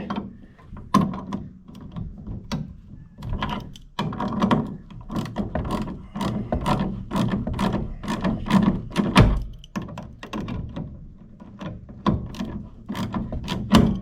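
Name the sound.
socket wrench ratcheting on a John Deere compact tractor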